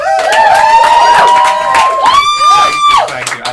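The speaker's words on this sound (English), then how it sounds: "Big round of applause for Matt Young, please." An audience cheering loudly, with shouts, whoops and high excited voices rising and falling in bursts over a crowd roar, close and intense throughout.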